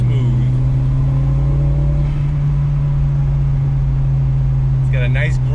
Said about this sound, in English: It's got a nice grumble out of the back.